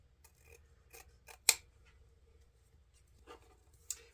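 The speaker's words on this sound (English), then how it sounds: "I'm going to grab my scissors and angle trim the ends of my ribbon tails." Scissors angle-trim the tails of a ribbon for a patriotic deco mesh wreath. A few quiet, crisp snips and soft rustles, one sharper cut standing out, close and isolated.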